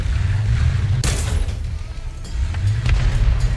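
A tank cannon in an online tank battle game goes off once with a sudden loud boom, followed by rumbling low engine noise and a few fainter distant thuds.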